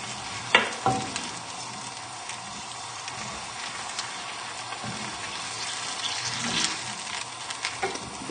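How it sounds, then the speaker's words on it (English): Chicken stock bubbling at a boil in a pan for a chorizo and tomato chicken dish, a steady soft sizzle and simmer with a few clinks and stirring knocks near the start. "every time you add the stock, you just want it to come to the boil nice and quickly"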